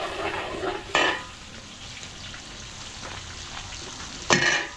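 Garlic and onion sauté in a pan with a soft, steady sizzle, punctuated by two loud stirring scrapes of a utensil, one early and one near the end; nobody speaks.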